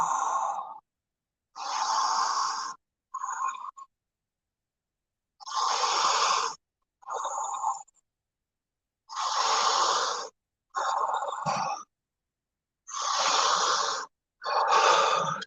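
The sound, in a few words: person breathing at a steady guided pace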